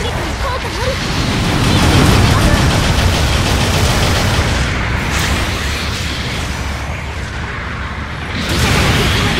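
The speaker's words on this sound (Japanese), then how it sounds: "後方部隊からの支援砲撃が来ます。" Support artillery bombardment in Gundam Battle Operation 2, a dense rumbling barrage of booms and rapid gunfire bursts rolling continuously at high volume.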